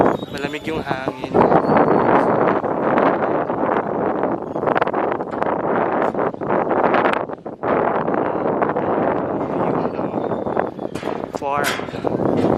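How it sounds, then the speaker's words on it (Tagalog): Strong wind gusts buffet the microphone at a hilltop sunflower farm, a loud rumbling roar that surges and dips across the whole stretch, with a voice talking over it at moments. "mahangin siya actually."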